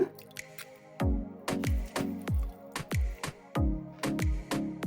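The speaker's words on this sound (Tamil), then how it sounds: "இப்போ வந்து கொஞ்சமாக எலுமிச்சம்பழம் பூஞ்சிக்கும்." Lemon juice squeezed by hand drips into a pot of vegetable kurma, a steady run of distinct close drops and wet splats, some paired, with no talking.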